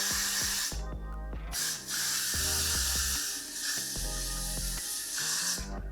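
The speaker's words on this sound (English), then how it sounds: "So you're gonna go ahead and spray your Got To Be Glued." Generous bursts of Got To Be Glued hair spray hiss from an aerosol can during a natural-hair deep wave ponytail install, loud steady spray pulses with brief pauses, no talking.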